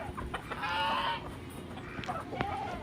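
Chickens cluck and squawk nearby at feeding time, with one loud burst of calls followed by scattered softer clucks and shuffling.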